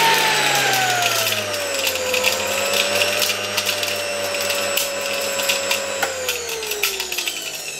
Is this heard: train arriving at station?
no